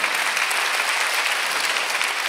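Steady, dense clapping from a church congregation fills the room at an even level throughout, with no pauses or voices rising above it.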